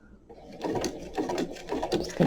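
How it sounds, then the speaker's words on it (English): A home sewing machine stitches fabric for a sideloaded envelope, running in short bursts of rapid mechanical whirring and clatter with a brief back stitch, close up and moderately loud. "I'm going to get it a little back stitch, just one stitch back."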